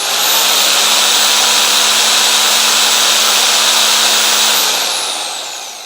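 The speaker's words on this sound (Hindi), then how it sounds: "डेवो कंपनी की मेरे पास एक ये हिल्टी टाइप ड्रिल मशीन है जो कि एक प्रोफेशनल टूल है" A Dewo Hilti-type rotary hammer drill, a professional tool running on solar power, whirs loudly and steadily at close range for several seconds before winding down at the end.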